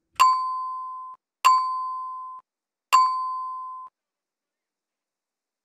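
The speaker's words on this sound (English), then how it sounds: "Can we play the bell?" A hand bell is struck three times at an even pace inside a shed, each clear ding ringing out and slowly fading before the next, with silence between strikes.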